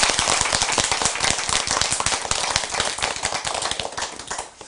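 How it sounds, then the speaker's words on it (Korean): Warm applause from a gathered crowd at the opening of an outdoor press conference: dense, continuous clapping that holds steady and then tapers off at the end. "뜨거운 박수로 한번"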